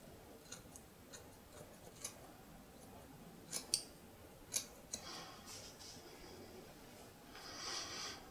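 Scissors trimming the sides of a beard, close and quiet, with scattered small snips that grow denser midway and a soft rustle of hair toward the end.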